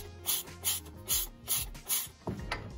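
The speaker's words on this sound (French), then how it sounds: "Ce petit bouchon-là, on va le dévisser avec une douille de 5/8e." A socket wrench on a 5/8 socket ratchets to loosen the drain plug of a Harley-Davidson Street Bob M8 engine, giving about five short, rhythmic clicking bursts up close with no talking.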